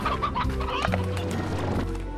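Chickens clucking in the video game Slime Rancher, close and fairly loud, with repeated clucks and short squawks over a low steady background hum, no talking.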